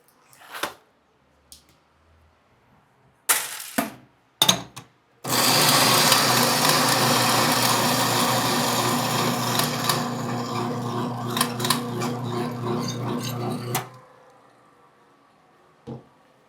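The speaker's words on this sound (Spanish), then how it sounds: "volvemos a moler un poco de café" A coffee grinder grinds coffee beans for a cold brew. After a few brief knocks, a loud, steady, close grinding whir runs for about eight seconds, then cuts off, followed by one faint knock.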